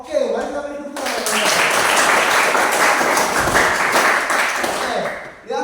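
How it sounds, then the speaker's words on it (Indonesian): A room full of people breaks into loud, sustained clapping for several seconds after a short spoken introduction, then the applause fades out. "mari kita beri tepuk tangan"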